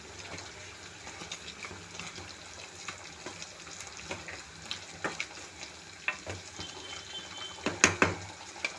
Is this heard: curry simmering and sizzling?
yes